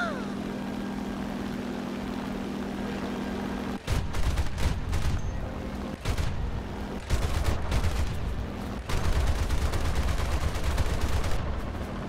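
Rapid bursts of aircraft gunfire from an A7M fighter in War Thunder, loud and close, firing in several long strafing runs over a steady engine drone.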